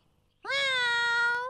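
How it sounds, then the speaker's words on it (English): A single drawn-out cat meow, loud and close, rising quickly and holding steady for about a second before fading, with no other sound around it. "Meow. Meow. Meow."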